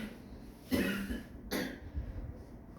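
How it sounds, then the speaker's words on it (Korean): A student in a classroom coughs twice, a short cough followed by a second one about a second later, near and moderately loud over quiet room noise. "질문 받으니까 기침이 나오지."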